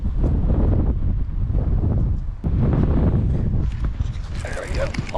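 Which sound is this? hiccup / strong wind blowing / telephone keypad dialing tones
strong wind blowing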